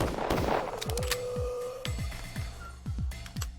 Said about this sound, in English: You shooting me?